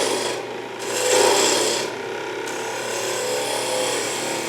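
A bowl gouge cuts into spinning wood on a lathe, giving a continuous loud, close rasping scrape that swells and eases slightly as the cut proceeds, with no talking.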